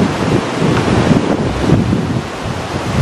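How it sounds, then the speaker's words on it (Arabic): A flooded wadi in Morocco after heavy rain, its water rushing in a loud, steady, broadband roar with gusty wind buffeting the microphone throughout. "شوف اخوتي شوف كيقول لكم الواد من هنا شوف"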